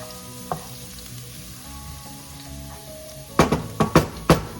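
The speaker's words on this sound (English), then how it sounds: "Now we're now about to saute our meat here, folks." Beef and garlic sauté in a hot pan with a steady, close sizzle, followed near the end by several sharp clatters of stirring against the pan.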